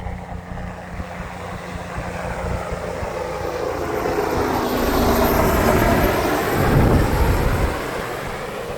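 A helicopter passes overhead near a beach, its rotor chop and whine building from moderate to loud as it nears, peaking overhead, then easing off, with no talking.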